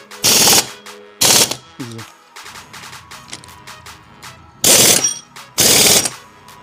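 A bolt on a Bajaj NS 200 engine is driven tight during a full engine rebuild, with four loud, harsh mechanical bursts of about half a second each, separated by quiet gaps holding faint clinks.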